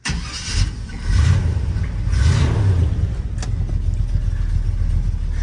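An old lowered truck's engine cranks and fires, then revs up in a couple of swells before settling into a steady, close idle.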